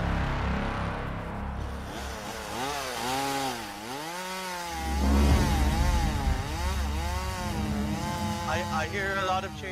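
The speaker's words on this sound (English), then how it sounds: "I hear a lot of chainsaw." Buzzing chainsaw revving and whining in GTA 5 roleplay amid a police and SWAT standoff, rising and falling in pitch over a steady roar, with a voice talking over it.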